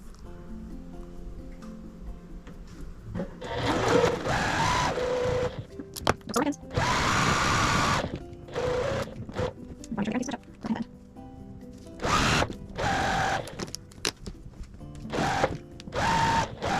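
A sewing machine stitches quilt pieces from a chicken-themed quilt kit in several short whirring runs separated by pauses, close and moderately loud, while a person talks quietly in between.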